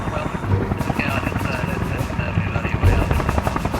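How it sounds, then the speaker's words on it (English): A helicopter's rotor thumps steadily and continuously, with a low rumble and a whining engine tone filling the background. "the sound of a chopper in the distance"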